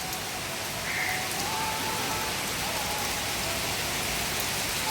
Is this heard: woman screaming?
no